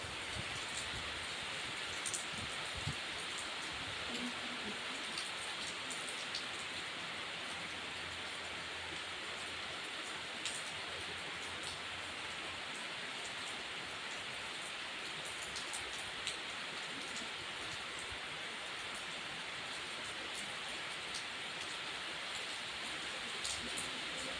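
Steady summer rain falls with a dense, even hiss, drops pattering on surfaces throughout, unbroken for the whole stretch.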